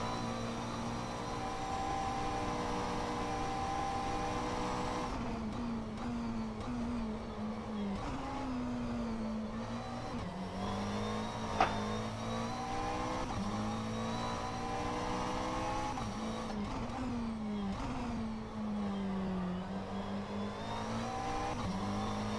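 A McLaren 720S GT3 race car lapping in rFactor 2, its engine droning steadily and close for the whole stretch, with pitch sweeping up and down through shifts and corners, alone without talk.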